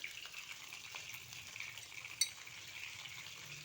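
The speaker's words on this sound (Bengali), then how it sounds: "এখন এই তেলেই আমি পটলগুলো ভেজে নিচ্ছি।" Pieces of pointed gourd (potol) fry in hot oil in a home kitchen, a soft steady sizzle with faint stirring and one brief clink of a utensil.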